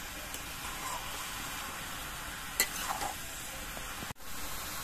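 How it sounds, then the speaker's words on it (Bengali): A large heap of bottle gourd with salt being turned in a pan: a steady frying sizzle with brushing stir strokes, one louder scrape partway through and a brief dropout near the end. "নুনটা দিয়ে আবার নেড়ে চেড়ে দিতে হবে"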